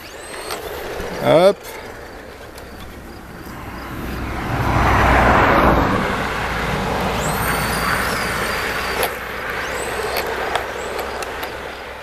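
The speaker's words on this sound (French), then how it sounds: "une voiture qui arrive" A car approaching along a quiet rural road, swelling from a distant rumble to a near pass around the middle, then fading while a model-aircraft electric motor whines at times; a short voice is heard.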